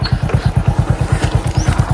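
A motorcycle rides along a farm track, its engine close and loud with a fast, even thumping exhaust pulse throughout.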